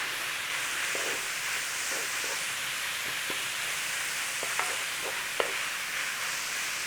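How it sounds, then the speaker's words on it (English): Onions and garlic frying in a pan for a Texas-style lasagna give a steady, even sizzling hiss throughout, with a few faint utensil taps near the end and no voices. "Straight in with those onions and get it all stirred in, start cooking it off."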